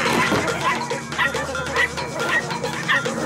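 Small cartoon chihuahuas yap in a rapid, overlapping flurry of high barks and yips, loud and close over a busy soundtrack.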